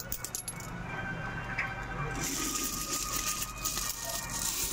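Two months of saved coins, mostly 20s and 10s with a few 5s, poured out of a piggy bank in a steady metallic rattling and clinking cascade that grows denser partway through, close up with no talking.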